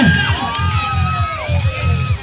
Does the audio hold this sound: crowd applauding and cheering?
yes